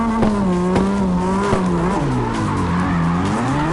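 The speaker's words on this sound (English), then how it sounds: "But the car is so loud." A car drifts in the CarX racing video game, its engine roaring continuously while the tires squeal loudly, with the pitch wavering up and down as the car slides through turns.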